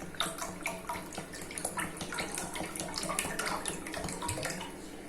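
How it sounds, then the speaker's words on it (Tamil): Half a litre of coconut oil poured from a container into a heated kadai, a continuous trickling, splashing pour with faint clinks, moderately quiet and close, with no talk. "நான் அந்த 1/2 லிட்டர் எண்ணெயை இதில் ஊற்றிடுறேன்"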